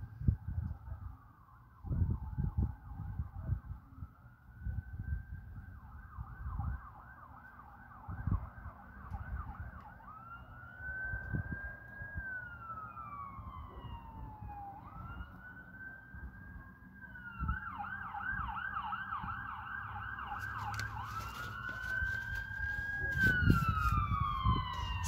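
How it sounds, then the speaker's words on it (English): Emergency sirens wail and sweep up and down in pitch, growing nearer and louder over time, with rumbling traffic and thuds underneath. "Sirens."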